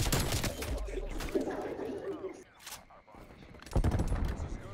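A strafe run in Call of Duty: Black Ops Cold War tears through a match, dense bursts of rapid automatic fire with a brief lull before another loud volley, with a player talking over parts of it.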